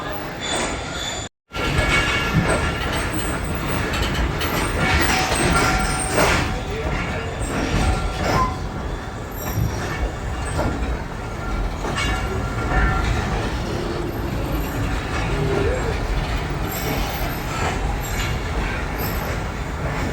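Pakistan Express 46 Down, running from Rawalpindi toward Karachi, rolls steadily along the rails with continuous loud wheel rumble, rhythmic clatter and intermittent squeal heard from on board.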